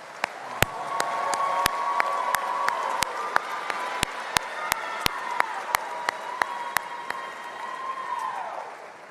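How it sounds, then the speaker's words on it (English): Commencement crowd at a university ceremony applauding graduates, a broad wash of clapping and some cheering in a large hall, with sharp individual claps standing out close by. "Let's applaud the entire group with me now."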